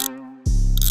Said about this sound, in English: like twisting some toys